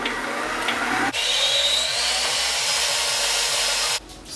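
A stand mixer with a paddle attachment beats cookie dough with a loud steady motor whir and rhythmic thumping of the paddle, running continuously before cutting off near the end.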